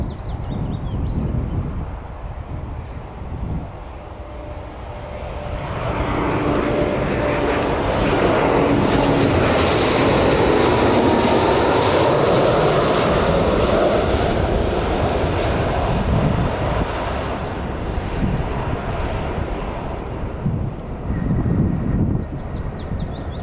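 A Transavia or KLM airliner at Newcastle Airport swells from a distant rumble to a loud jet roar that peaks midway and slowly fades, with wind buffeting the microphone.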